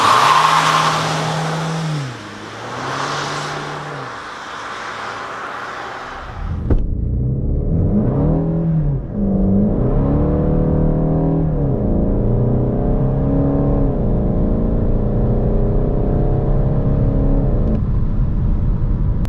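A VW Golf 8 GTD accelerates hard without launch control, its engine note rising loud and close through repeated climbs and dips as it shifts up through the gears, with no talk.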